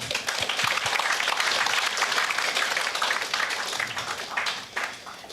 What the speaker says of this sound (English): they need a big round of applause now